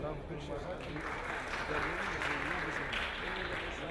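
Conference audience applauding a guest at an innovation and entrepreneurship session, a fairly faint, steady clapping in the hall with voices mingled through it.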